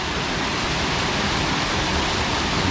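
A waterfall near Tha Khaek in Khammouane, Laos, roars as a steady, dense rush of falling water. It fills the whole clip evenly and close, with no talk.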